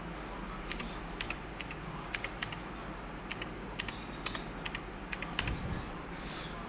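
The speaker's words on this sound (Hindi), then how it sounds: "यहाँ पर मैं ईमेल दे देता हूँ कोई भी," Typing on a computer keyboard, with a steady run of light, crisp key clicks in uneven bursts, close and fairly quiet, with no talking.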